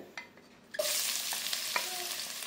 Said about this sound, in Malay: tumiskan 1 biji bawang besar, 3 ulas bawang putih ya